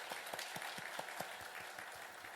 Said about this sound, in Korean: 우리 찬양대 여러분 큰 박수 다시 한번 좀 하실까요?